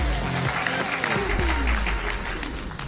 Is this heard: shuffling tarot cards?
no